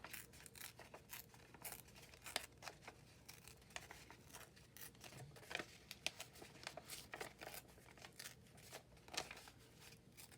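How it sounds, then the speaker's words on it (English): Paper being torn by hand for a Christmas collage gluebook, a run of close, quiet rips and crinkles in irregular bursts with short pauses between them, and no talking. "So let me just do a tear on this."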